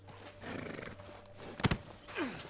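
A horse in the video game Red Dead Redemption 2 snorts and whinnies, with hoof clatter and a loud close burst near the middle and a rising whinny near the end.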